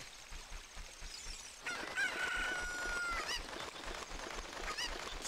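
Rooster crowing in the video game The Legend of Zelda: Ocarina of Time, a single drawn-out crow rising out of steady background game ambience, fairly faint, with no talk.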